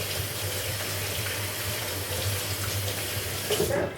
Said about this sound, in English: So I'm going to wash my hands real quick.